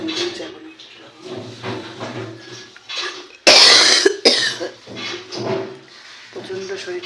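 Several harsh coughs burst out from a sick person in a home, loud and close, set between stretches of talking.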